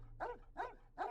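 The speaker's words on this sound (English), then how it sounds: "God damn, that dog pisses me off." Three evenly spaced barks from a dog, moderately close but quiet, with no one speaking over them.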